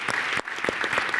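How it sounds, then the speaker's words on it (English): Applause from an audience at a Global Citizen panel on protecting the Amazon and rainforests, a short burst of dense clapping with a brief dip partway through. "Let's give her another round of applause."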